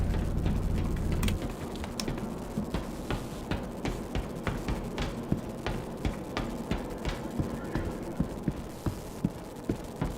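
Freight elevator machinery in Star Citizen, a low mechanical hum that drops away, then a steady rhythmic run of ticks and knocks like gears or a ratchet, repeating evenly for several seconds.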